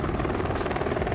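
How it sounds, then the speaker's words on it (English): A loud, steady rotor whir of a helicopter on the Border map in Rainbow Six Siege, heard as a brief continuous drone lasting about a second. "It's a helicopter."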